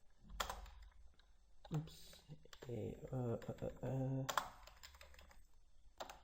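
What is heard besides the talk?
typing on a computer keyboard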